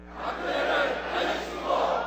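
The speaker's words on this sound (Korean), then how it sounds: "하늘을 향해서 구호를 외쳐주시기 바랍니다" A large crowd of supporters at a Park Geun-hye autobiography launch event shouts a slogan in unison, a loud sustained roar of many voices rising and falling together in rhythmic waves.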